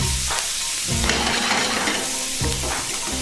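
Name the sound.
shallots frying in a pan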